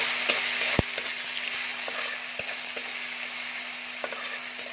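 Seedless tomato pieces sizzle steadily in a pan with a continuous hiss, while a utensil scrapes and clicks against the metal a few times, one knock louder than the rest.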